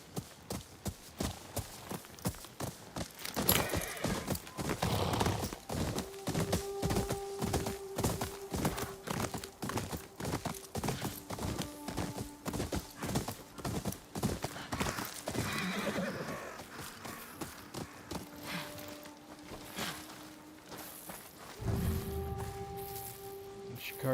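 Horse hooves clip-clopping in the video game Ghost of Yotei, a rapid, regular run of sharp hoofbeats with several loud whinnying neighs rising over the trotting, alongside faint rustling.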